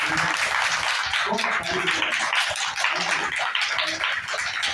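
Steady, dense clapping from an audience at a BK spiritual class, sustained and fairly loud throughout with a busy, crowded texture and faint voices mixed in.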